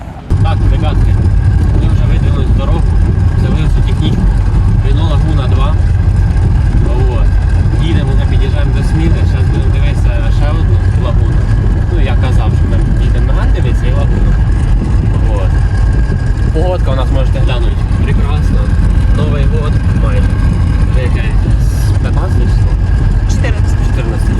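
A 2003 Renault Megane II coupe with a 1.6 petrol engine and 18-inch wheels drives along, producing a loud, steady engine and road rumble throughout while people talk over it.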